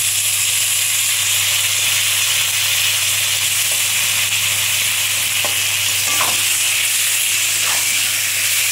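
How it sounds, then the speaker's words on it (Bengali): Tomatoes fry in hot oil for a bhetki fish curry with cauliflower and lentil dumplings, a steady close sizzle with a few stirring scrapes and clinks. "টমেটোটা যত তেলে ভাজা হবে তত রঙও হবে, তরকারিও খেতে স্বাদ হবে।"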